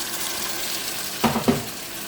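Chicken fries in a pan with a steady sizzle before a little water is added, triggering two sharp hissing bursts of steam.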